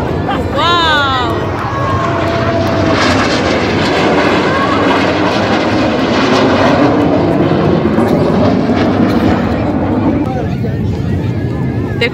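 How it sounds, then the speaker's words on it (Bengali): Military aircraft roaring overhead at a Saudi national day air show, a continuous loud jet rumble throughout with crowd noise and a person talking excitedly over it. "আরো একটা বিমান আসছে"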